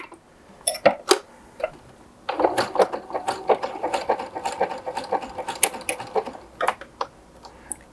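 A sewing machine stitches an inseam pocket, starting with a few isolated clicks and then running in a quick, steady rattle of needle strokes, close and fairly loud, with brief pauses.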